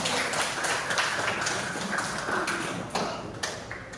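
Students in a classroom clap for two classmates, irregular hand claps and taps rising and fading across the stretch, close by, with faint chatter beneath.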